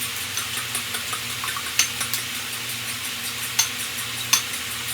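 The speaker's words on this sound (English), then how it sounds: "I've got 4 eggs cracked into this bowl, and then we'll just give those a mix with a fork." Four cracked eggs are beaten with a fork in a bowl, a soft steady swishing with a few sharp clinks of the fork against the bowl, close and fairly quiet.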